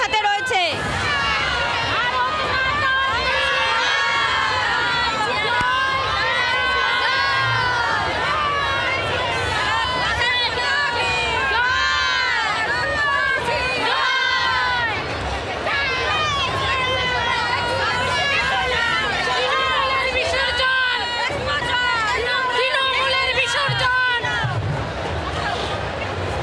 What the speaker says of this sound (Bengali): এই মুহূর্তে তারা স্লোগান দিচ্ছেন, তারা জয় শ্রীরাম স্লোগান দিচ্ছেন।